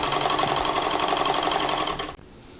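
A sewing machine runs steadily while stitching a knit dress, a dense continuous whir for about two seconds before it stops abruptly, leaving quiet room tone.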